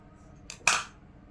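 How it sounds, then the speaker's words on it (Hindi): Two quick scissor snips cut crochet yarn, a light first click followed by a sharper, louder snip, close and isolated against near silence. "अब मैं इसको एक चेन लेकर और इतना कट कर दूँगी।"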